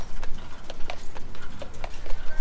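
Horse hooves clip-clop on hard ground near the Giza pyramids, a close, steady run of light knocks.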